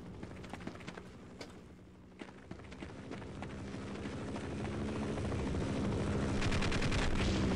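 A helicopter in the video game Half-Life 1 whirs with a rapid rotor chop that grows steadily louder and nearer, mixed with scattered gunfire bursts and footsteps.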